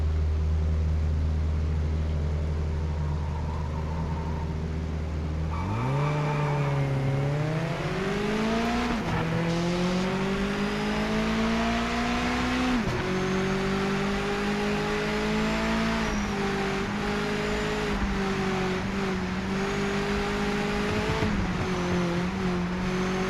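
Race car engines in Project Motor Racing rev hard and climb through the gears, with pitch rising and dropping at each shift. The loud, steady engine note runs throughout, with occasional tyre noise and no talking.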